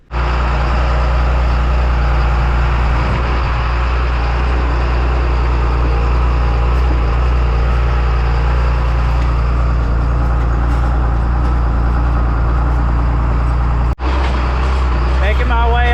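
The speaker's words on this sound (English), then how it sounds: "it's time to get in the tractor and go spread" A salvage tractor engine drones steadily and loudly while driving out to spread over a rough field, a constant low rumble with a brief dropout near the end.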